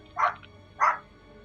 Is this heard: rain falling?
no